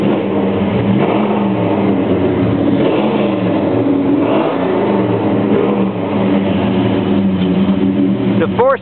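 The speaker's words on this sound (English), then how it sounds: "The good old cammed up dual exhaust sound." A 1968 Dodge Charger four-speed with a cammed engine and dual exhaust revs steadily up and down close by, a loud, continuous rumble that holds for the full stretch.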